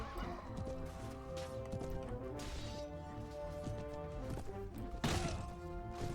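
Horse neighing and whinnying amid a Mount and Blade: Warband (Prophesy of Pendor) battle, with hooves clip-clopping, clashes and a swelling musical score underneath; a sharper crash bursts in near the end.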